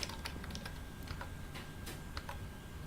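Quiet clicking of keys on a computer keyboard, irregular taps spread over a few seconds at low level against a steady background hiss, with no talk.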